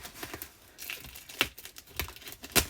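A yarn box package being cut open: crinkling and tearing bursts of cardboard and plastic packaging, close and moderately quiet, in short irregular rips with no talking.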